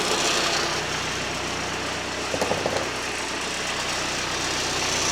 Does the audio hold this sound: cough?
no